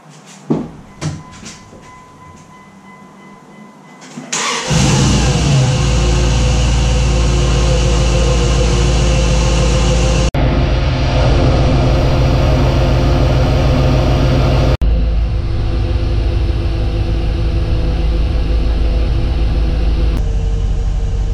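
A 1994–2001 Dodge with a 5.2L V8, just fitted with new spark plugs and wires, cranks briefly with some clicks, then catches and settles into a loud, steady, deep idle that carries on alone.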